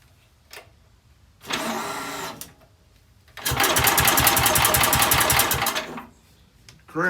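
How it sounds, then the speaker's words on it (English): Two-stroke engine on a 1960s Sears Custom tractor cranking over, a short burst of rapid rhythmic turning and then a longer sustained stretch of fast, pulsing cranking, loud and close. "Cranking pretty good."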